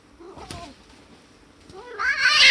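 A cat yowls in drawn-out, rising cries, the first short and mid-volume, then a louder, strained caterwaul building toward the end, with quieter gaps between.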